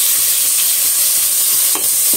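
Onions and tomato with a little salt frying in a pan for paneer dum biryani, a loud, dense, continuous sizzle close by with a faint stir near the end, no voices.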